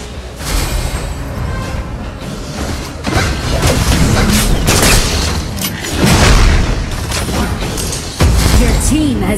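Turret destroyed in the Honor of Kings mobile game, heavy booms and crashing impacts layered over constant battle effects, with an announcer voice and other speech over the action.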